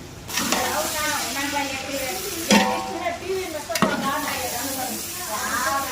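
Onions fry with cardamom, cloves, cinnamon and star anise in a large batch of oil for a five-kilo chicken biryani, giving a loud continuous sizzle with sharp stirring scrapes while someone talks over it.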